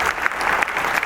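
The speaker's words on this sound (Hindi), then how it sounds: "हमारे बीच में जोरदार तालियों के साथ स्वागत कीजिए" Dense applause from a university Teacher's Day audience welcoming the chancellor, loud and continuous with rapid overlapping claps throughout the short burst.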